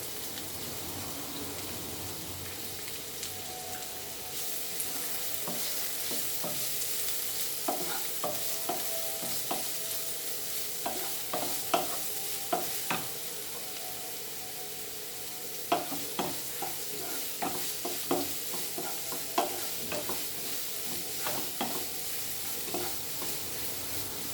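Onion and pork frying in a pan for a Goan methi aloo dish: a constant soft sizzle, joined partway through by a run of sharp spatula scrapes and taps that grow busier toward the end, with no talking.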